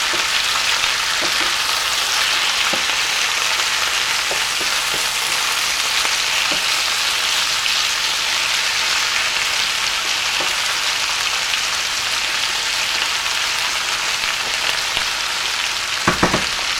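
Breakfast food for an old-fashioned southern meal frying in a pan, a loud, steady sizzle and crackle that continues unbroken throughout, with a few faint clinks near the end and no talking.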